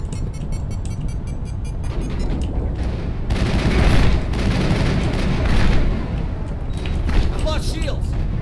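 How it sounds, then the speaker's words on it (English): Mass Effect game combat with heavy booming rocket blasts and bursts of gunfire, rapid shots early on, dense and loud explosive rumble through the middle. "I took that rocket right in the face."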